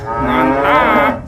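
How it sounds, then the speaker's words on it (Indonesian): Toy cow gives a long, loud electronic moo with a steady tone that swells and fades, heard near and alone apart from a brief spoken word. "sapi mo"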